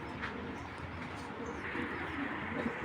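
A racing pigeon coos softly among pigeons kept for sale, the low murmuring calls faint beneath a constant background hum.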